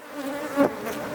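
Honeybees buzz steadily around an opened hive box during a colony inspection, a close, continuous drone with one brief louder swell near the middle.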